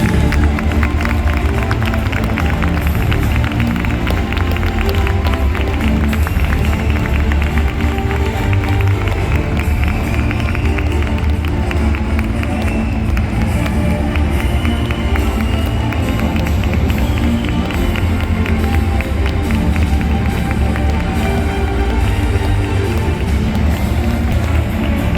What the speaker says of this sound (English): let us give the biggest round of applause to our team, Elite Phoenix Carmen.